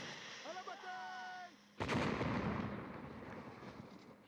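A high explosive box goes off in a video game line battle, one sudden loud blast that rolls into a long, fading rumble. Before it, tonal game sounds and faint background noise play, and there is no talk.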